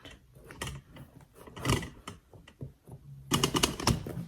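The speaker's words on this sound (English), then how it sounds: "So, pomelo, cutting this thing open." A knife cuts open a pomelo up close in a quiet, cluttered space, giving a run of dry crackling, tapping bursts of rind splitting and slicing, with pauses between and a louder flurry near the end.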